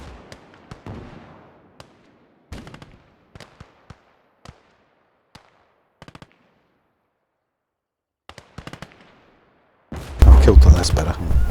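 Nebelwerfer rocket artillery strikes in the Gates of Hell strategy game: scattered sharp bangs and distant blasts pop irregularly over near silence, then a heavy, loud rumbling barrage erupts near the end.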